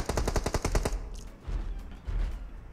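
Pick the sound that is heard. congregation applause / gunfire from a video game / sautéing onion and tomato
gunfire from a video game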